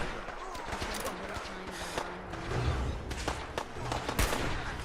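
Gunfire against gunners in Fallout 4 with the Sim Settlements 2 mod: repeated sharp shots and short rapid bursts at moderate loudness, with some mid-distance cracks throughout.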